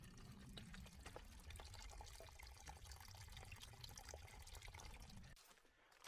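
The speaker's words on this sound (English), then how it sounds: "Yeah, it looks like it's flowing pretty good, so we should be able to get pretty good water out of here" A mountain stream on the Appalachian Trail near Springer Mountain, Georgia, flows steadily with a close, full rush of water that runs unbroken and then drops off abruptly just before the end.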